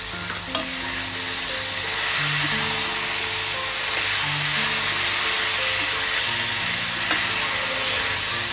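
Cumin and Kashmiri chili powder fry in hot oil, a continuous close sizzle and hiss as a spoon scrapes and stirs through the spices, with no voices.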